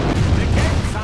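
Cannon firing during a siege in Medieval 2: Total War, a single short, loud, deep booming blast with a dense low rumble.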